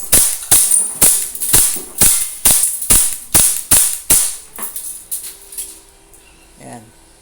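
A KWC P226 airgun fires about ten sharp, loud shots in a steady rhythm, each with a brief metallic snap, then the shots grow quieter and stop, leaving faint handling noise.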